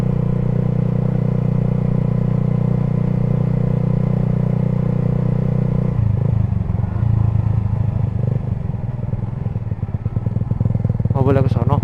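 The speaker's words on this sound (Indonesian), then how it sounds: "Enak cuy ini knalpot asli" Motorcycle, a Suzuki GSX, idling with a WRX Lingga aftermarket exhaust, a steady deep loud rumble that shifts and roughens midway, then revs briefly near the end, with talk over it.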